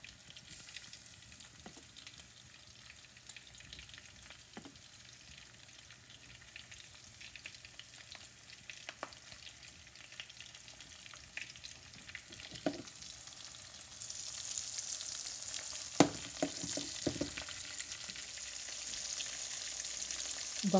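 Fresh sardines fry in oil with a soft, steady crackling hiss that grows louder and brighter toward the end, punctuated by occasional sharp pops, no speech.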